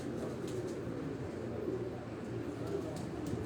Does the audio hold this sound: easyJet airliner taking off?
no